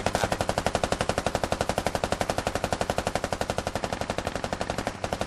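Continuous automatic gunfire in the Squad video game, a steady rapid stream of dozens of evenly spaced shots, loud and close, with no talking over it.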